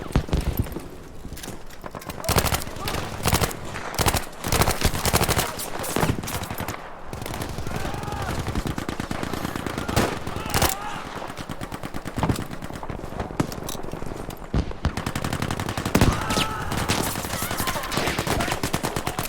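Battlefield 5 gunfire fills the match, with repeated bursts of automatic fire and single shots, loud and dense, while a player shouts over the action.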